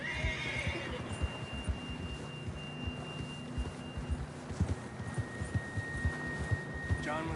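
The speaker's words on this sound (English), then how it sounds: "John was riding that horse when we left Blackwater." A horse whinnies briefly at the start in Red Dead Redemption 2, followed by a low steady hum and soft rhythmic thumps in the background.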